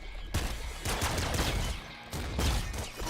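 Flak cannon fire in the game Nuclear Throne: several heavy bursty blasts with scattered crackling fragments, roughly three loud impacts spread over a few seconds, no talk.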